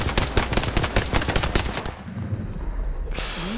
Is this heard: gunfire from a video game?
yes